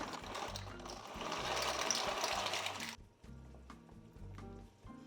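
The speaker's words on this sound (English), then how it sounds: "we're gonna cook this in our pot of boiling water" A pot of salted water boils for pasta with a steady watery bubbling and churning, louder for the first few seconds and then settling to a softer simmer, with no talk.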